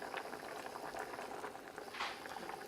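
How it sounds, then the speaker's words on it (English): Broccoli in a pot of water at a rolling boil, a steady close bubbling and hissing roar with no talk over it. "the broccoli's came to a boil"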